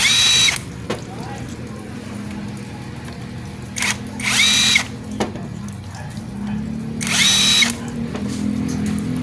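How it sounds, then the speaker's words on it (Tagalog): A T-wrench loosens the 10mm clutch spring bolt on a Yamaha YTX motorcycle, giving three loud bursts of whirring, ratcheting metal close up over a steady low background hum. "tanggalin natin ng 10mm na bolt ng clutch spring"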